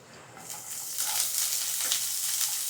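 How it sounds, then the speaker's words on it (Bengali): Garlic and onion sizzle steadily in a hot pan with oil, a close, bright hiss that swells and stays continuous, with faint stirring scrapes and no talking. "রসুনটা সামান্য হালকা করে ভেজে নেব নিয়ে এর মধ্যে দেব পেঁয়াজটা"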